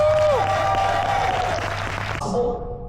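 Convention audience in a Kansas City hall applauding and cheering loudly for nearly three seconds, dense clapping under a whistle and some crowd noise, fading slightly at the end.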